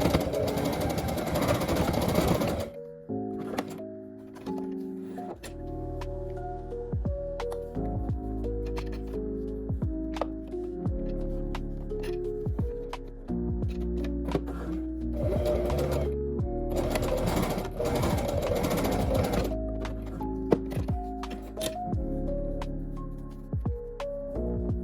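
A sewing machine stitches across both ends of a fabric-scrap pin cushion with elastic held in place, running in several bursts of rapid, steady mechanical whirring separated by brief pauses, close and loud with no talking.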